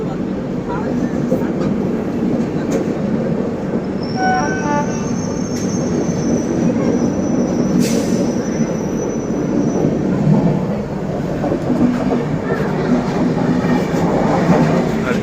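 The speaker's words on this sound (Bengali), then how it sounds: "পাঁচটা ট্রেন একসাথে যাচ্ছে" Trains run side by side on parallel lines near the Himgiri Express on its Kolkata to Kashmir route, making a loud, constant rumble and clatter of rolling stock, with a brief high whine partway through.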